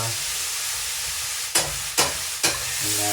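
Curry chicken and string beans stirred in a hot frying pan, a constant sizzle broken by three sharp scraping knocks of the spoon against the pan.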